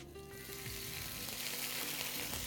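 Vinegar poured into a frying tomato sauce for fatteh, giving a close, steady sizzle with crackling bursts and light stirring, no talk.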